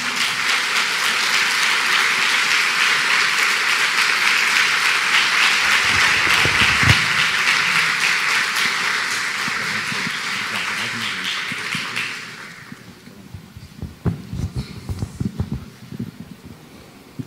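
A church congregation applauds as a pastor is received, sustained dense clapping for about twelve seconds that then breaks off into scattered claps, taps and rustling, with some voices in the background.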